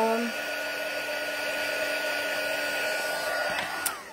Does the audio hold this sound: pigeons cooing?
no